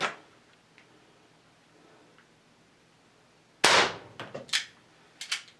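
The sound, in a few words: Crosman 38T .177 air pistol shooting pellets over chronograph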